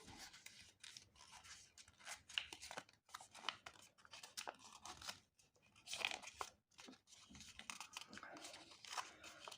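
Paper being creased and folded by hand for an origami Coelophysis, faint close crinkles and soft rustling bursts in uneven clusters with short quiet gaps.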